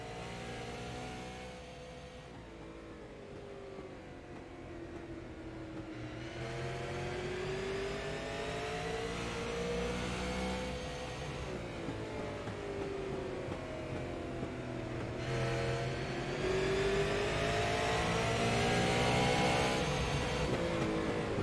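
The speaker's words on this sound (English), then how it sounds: "let's have a listen to the sights and sounds here at Irwindale Speedway as we ride on board with Ron Hart, the number 51 machine." Onboard engine of the number 51 touring race car at Irwindale Speedway, a loud continuous roar that climbs and falls in pitch as the driver accelerates and lifts through the laps, steady and close throughout.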